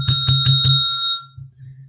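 A small bell rings four quick times in a steady rhythm during an interview, close and bright, then its tone fades out.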